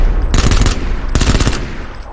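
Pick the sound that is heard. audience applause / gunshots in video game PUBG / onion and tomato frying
gunshots in video game PUBG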